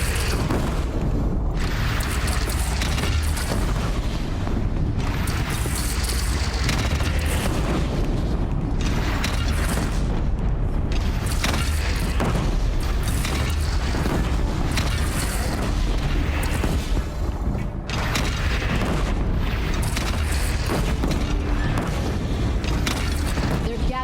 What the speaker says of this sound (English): They only have one cannon!